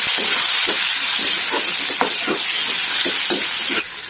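Tomatoes hitting browned onion, garlic and ginger in a hot pan for an Assamese pork curry, giving a steady loud sizzle with scattered crackles throughout that drops slightly near the end.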